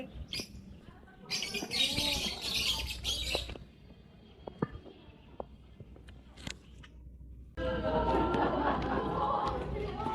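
Bursts of pigeon and bird chirping and squawking at the Bocaue pet market, fairly close, in two busy stretches with a quieter gap of scattered sharp calls between them.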